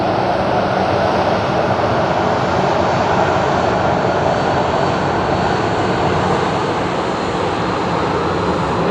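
An airliner taxis at Madeira Island Airport, its jet engines giving a loud, continuous broadband roar that holds steady throughout at fairly close range.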